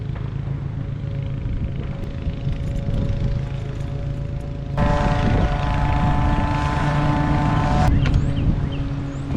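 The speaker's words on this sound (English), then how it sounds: "it is extremely windy out today" Strong wind roars steadily across the whole stretch at a reservoir, a dense low rumble with a harsher, louder gust surge in the middle part.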